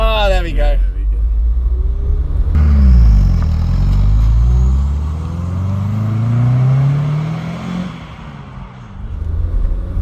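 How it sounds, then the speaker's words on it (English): Porsche 924 Turbo with a five-speed dogleg gearbox, engine rumbling loud and close from inside the car as it accelerates, revs rising and falling through gear changes, with turbo whine over the drone and talk heard throughout. "You can hear the turbo."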